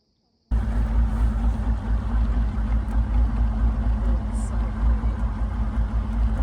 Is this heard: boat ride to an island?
yes